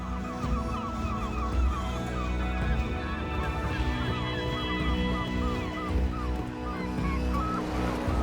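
A flock of hungry seagulls calls constantly out at sea, where whales surface and scraps of food float, their overlapping harsh cries layered thickly over a steady low roar of wind and water.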